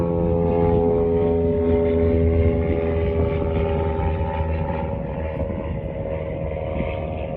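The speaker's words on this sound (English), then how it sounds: "So, at least it's a float plane." A float plane drones steadily overhead near Clear Lake, a loud, continuous propeller and engine hum with strong harmonic tones that holds for the whole stretch and eases slightly toward the end.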